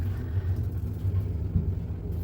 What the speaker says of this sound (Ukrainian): я просто обожнюю ліфти, які в новобудовах